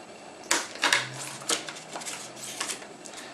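Scissors or a blade cutting into a thin plastic margarine lid, producing a quick series of crisp snips and clicks, close and fairly quiet, with no talking.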